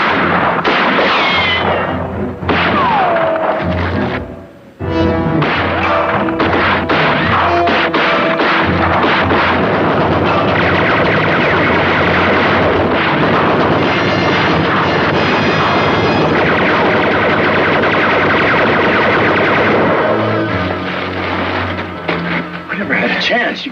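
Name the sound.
Gatling gun firing in a western TV series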